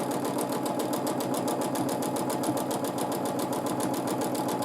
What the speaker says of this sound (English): I am just quilting a nice wavy line.